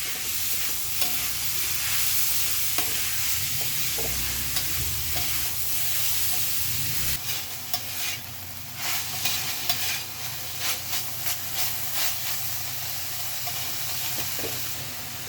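Chicken mince fries hard over a high flame, a loud hissing sizzle that turns into rhythmic scraping and clattering stirring strokes in the second half, with no voices.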